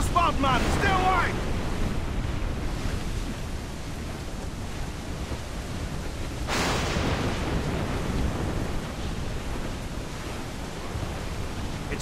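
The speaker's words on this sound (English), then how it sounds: "Water spout, man! Stay away!" Howling wind and crashing ocean waves swirl around a waterspout at sea in Assassin's Creed IV Black Flag, a dense roaring wash with a surge of spray midway and a faint voice at the start.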